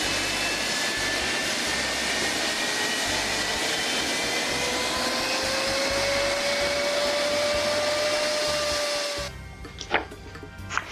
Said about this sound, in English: Let us know in the comments if this is a normal engine test for an aircraft.